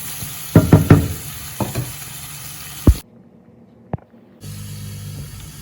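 Drumstick pieces and onions sautéing in a pan, with a soft steady sizzle broken by a few sharp spoon knocks and stirring scrapes, then a brief silent gap.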